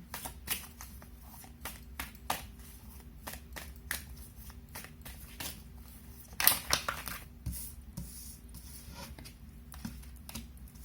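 Tarot cards are shuffled close by in a steady run of quick, crisp riffles and soft slaps across about ten seconds, with a louder flurry around the middle and no talking.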